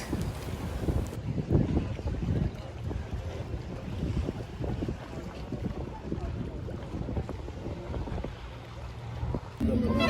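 A ferry crosses Lake Como with a low engine rumble beneath strong wind buffeting and the wash of water, continuous and close throughout.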